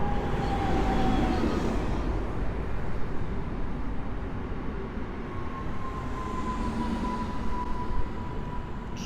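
An Impuls 2 electric multiple unit, 35WE 009, rolling into Warszawa Lotnisko Chopina station, a loud steady rumble of wheels on rail with faint tonal whines rising over it.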